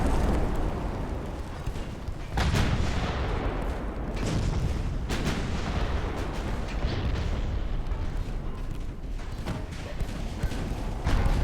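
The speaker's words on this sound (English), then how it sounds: "But they continue to fire those guns." Battleship guns firing in the naval warfare game Ultimate Admiral Dreadnoughts: loud, deep, rumbling booms and blasts in a rolling, irregular barrage, with several sharper cracks over a constant low roar.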